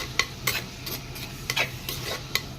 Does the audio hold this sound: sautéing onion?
yes